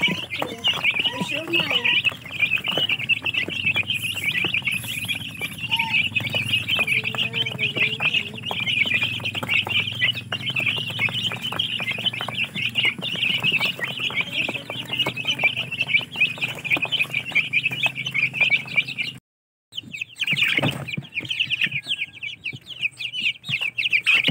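Twelve-day-old Rhode Island chicks packed into a crowded cage keep up a dense, continuous chorus of high peeping and chirping, steady and close for most of the clip, with a brief drop near the end and a voice talking underneath.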